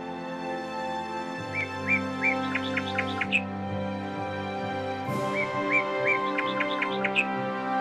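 A Nias hill myna in its native island habitat on Pulau Nias gives a series of clear, ringing whistled calls in two repeated bursts, fairly close over a constant droning background hum.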